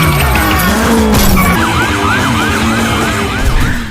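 Police car sirens wail in a film car chase from Baby Driver, rising and falling over engine roar and tyre noise, loud and close with repeated sweeping cycles.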